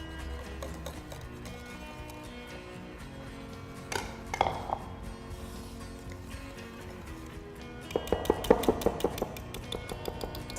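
Utensil tapping and clinking in a bowl while egg whites are folded into dry waffle batter ingredients, sparse light taps, then a denser run of quick clinks near the end, close with no talk.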